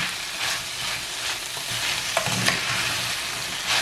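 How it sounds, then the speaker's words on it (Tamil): Boiled chickpeas being stirred into snake beans frying in a pan for a Jaffna-style curry, with steady sizzling under repeated scraping and stirring strokes, close and fairly loud with no talk. "இப்போ இதை நல்லா மிக்ஸ் பண்ணிவிடுங்க"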